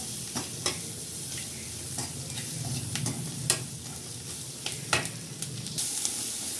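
Turmeric and spices roast in a pan for a bitter gourd dish seasoned with dried mango powder, giving a steady close sizzle broken by scattered scrapes and clicks of stirring, with no voices.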